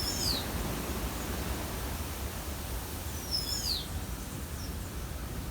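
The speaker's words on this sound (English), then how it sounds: "that other bird that you can hear is a Carib Grackle" A Carib Grackle calls in a Caribbean forest: a few brief, sharp whistled notes rise over a steady wash of outdoor hiss and rustle, fairly distant and faint.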